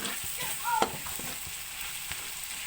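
Tomatoes are mashed and sautéed in a pan while cooking monggo, with a soft steady sizzle and a few scraping stirs, one sharper scrape standing out near the middle.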